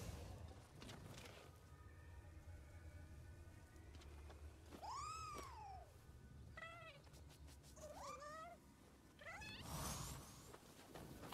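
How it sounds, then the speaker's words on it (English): Cats meowing in the video game Nioh 2, several distinct rising-and-falling meows spaced a second or two apart over a low, steady game ambience with a rumbling background. "I think I can hear one of them cats."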